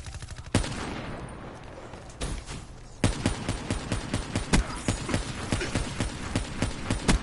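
Rapid video-game gunfire crackles in dense bursts, sparse single shots at first, then a sustained fast rattle of sharp, loud reports through the rest.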